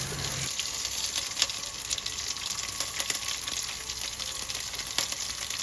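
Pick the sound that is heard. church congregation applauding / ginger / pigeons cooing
ginger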